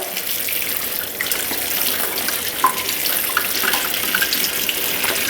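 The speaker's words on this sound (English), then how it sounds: "and then we just wanna rinse them really well." Sprouting seeds being rinsed under a running kitchen faucet, a steady broadband rush of water with small splashes and trickles throughout, fairly close and continuous, with no talking.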